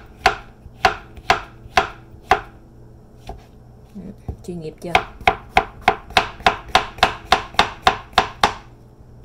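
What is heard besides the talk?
knife slicing food into thin pieces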